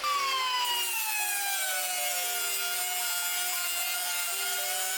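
Cutting out an old clip on a Honda Type R with a cutting tool, a continuous high-pitched grinding whine whose pitch slowly drops, loud and close throughout with no voices.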